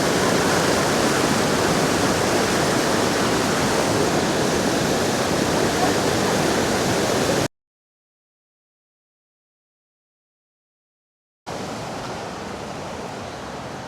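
Sgwd Isaf Clun-Gwyn waterfall in Wales roaring with a dense, steady rush of falling water, loud and constant, cut by a few seconds of silence before the roar resumes.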